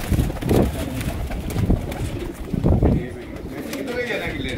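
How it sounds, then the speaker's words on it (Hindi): Highflyer pigeons for sale in Lahore coo in soft repeated bursts close by, with someone talking over them. "ये माशाल्लाह सभी अच्छे कबूतर हैं"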